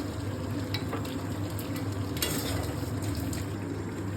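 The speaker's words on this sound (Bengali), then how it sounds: "দিয়ে ভালো করে কষাতে হবে।" Spices with chili powder and turmeric fry and get stirred in a hot pan, a dense continuous sizzle with scattered scraping clicks of the spoon, close and fairly loud, no talking.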